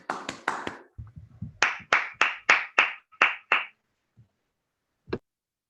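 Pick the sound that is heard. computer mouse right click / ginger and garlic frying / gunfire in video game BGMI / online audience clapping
online audience clapping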